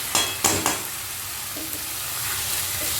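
Boiled banana flower being stirred into fried spices in a pan, a few sharp spatula scrapes at the start giving way to a constant sizzle, no talking.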